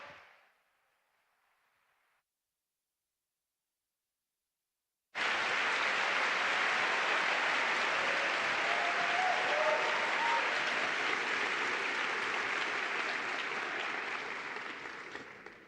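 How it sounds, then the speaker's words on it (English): After a few seconds of near silence, a large crowd at an Erasmus Generation opening ceremony in Seville bursts into loud, sustained applause for the European Commission Vice President, a thick roar of clapping that slowly fades at the end. "please, huge round of applause for Vice President of the European Commission"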